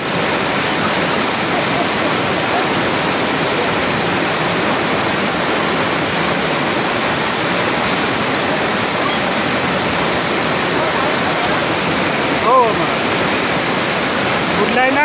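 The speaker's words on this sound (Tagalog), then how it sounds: "Pareho, grabe ang usap ng tubig." Floodwater roars over a waterfall in Lemery, Iloilo as a loud, unbroken rush that holds steady throughout, with faint voices barely surfacing above the torrent.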